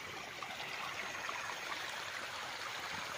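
A spring-fed stream runs through a wooded farm lot beside a river in Siniloan, Laguna, giving a steady, soft rushing wash of water that stays even throughout, with no voices.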